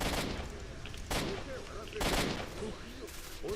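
Gunfire from an NPC's Ventor-like shotgun during a firefight in STALKER Shadow of Chernobyl, three or four loud blasts with crackling tails spaced about a second apart over a dense battle background.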